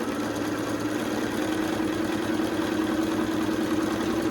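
A sewing machine stitches bias binding around a curved edge in a steady, fast mechanical whirr with a rapid rhythmic chatter, running continuously and close at moderate volume.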